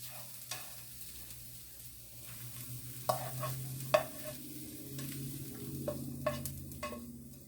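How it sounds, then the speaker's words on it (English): Onions frying in a pan for a from-scratch frittata, a quiet, close sizzle broken by occasional clicks and scrapes of a utensil stirring. "now we're going to add our onions"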